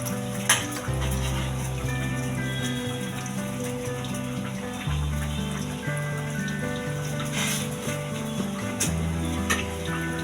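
Parotta frying in oil on a pan over medium heat, giving a soft continuous crackle and sizzle with occasional light taps and scrapes from turning the bread, set against a low background hum.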